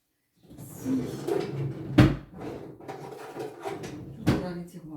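Drawers slide open and shut in a room where acrylic pouring is done, giving several bumps and thuds with rummaging between them and a voice speaking over part of it.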